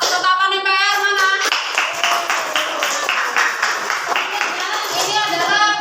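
A classroom group claps together in a lively burst of applause, steady and fairly close, with children's voices chattering over the clapping throughout.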